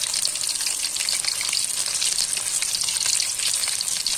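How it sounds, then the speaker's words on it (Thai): Steady, dense sizzling of chicken deep frying in hot oil in a pan over a charcoal stove, continuous and close, with occasional crackles and pops. "เราใช้เตาถ่านในการทอดนะครับ"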